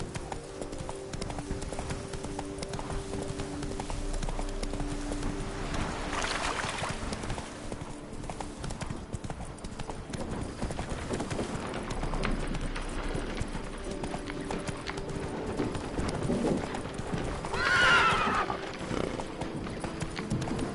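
Steady hoofbeat clip-clop of the horse Roach galloping in The Witcher 3, continuous and fairly close, with game music and ambience underneath and a brief whinny-like burst near the end.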